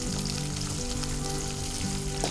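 Curry leaves, chana dal and green and dried red chillies frying in hot tempering oil, giving a steady close sizzle with soft crackles throughout, no voices.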